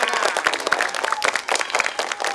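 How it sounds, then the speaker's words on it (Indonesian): Schoolchildren clapping their hands at an elementary school arts event, fairly close and loud, with uneven bursts of claps over a few seconds and a little background voice mixed in. "Tepuk tangannya mana anak-anak?"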